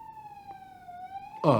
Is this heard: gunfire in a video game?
no